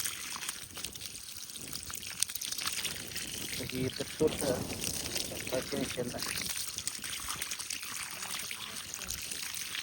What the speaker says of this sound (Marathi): हे पाणी असं चालू केलं